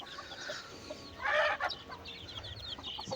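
A hen clucks in a short burst amid farmyard background noise, with fainter bird calls scattered around it.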